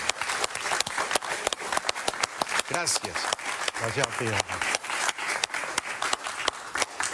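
Applause for a guest on a television talk show, dense clapping throughout with sharp individual claps, while a couple of voices speak briefly over it.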